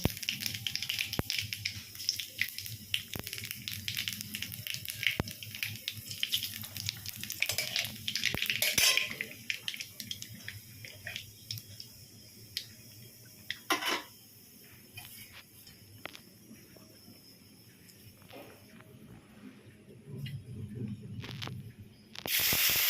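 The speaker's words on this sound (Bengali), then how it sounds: "এরপর ওর মধ্যে কালো জিরে ফোড়ন দিয়ে দেব।" Black cumin seeds hit hot mustard oil in a pan, giving a sustained crackling sizzle with scattered sharp pops that fades and swells again, with no talking.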